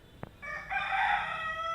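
A rooster crows once, a loud drawn-out call that rises and holds, following a short click. Fairly close, with no talking.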